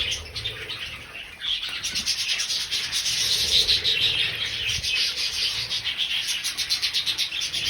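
Hundreds of budgies chirp while eating together in a breeding aviary, a dense, continuous chatter of high twittering and scratchy calls filling the whole space at close range.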